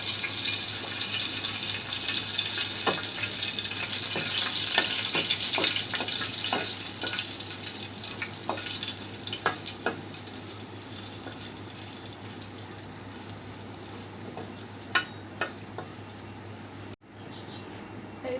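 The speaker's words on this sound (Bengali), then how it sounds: "তো শুকনো মরিচগুলো বেজে নিলাম" Dried red chilies frying in a pan for a spicy lentil mash, a steady close hiss and sizzle with scattered small pops and crackles, fading slightly toward the end.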